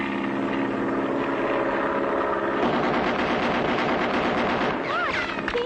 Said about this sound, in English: Look, he's shooting us.